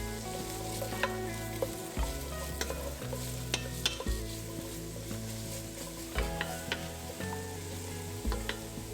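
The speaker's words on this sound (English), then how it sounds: "add in the carrot, celery, and onion with some salt and pepper. This is gonna cook for about 4 to 5 minutes" Diced carrot, celery and onion sauté in a soup pot, a steady sizzle running throughout while a spoon stirs and scrapes now and then, close and moderately loud with no talking.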